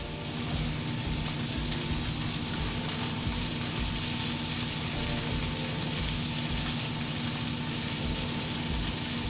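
Snook fillets frying in a hot pan, a steady loud sizzle and crackle of oil running unbroken and close throughout with no voices.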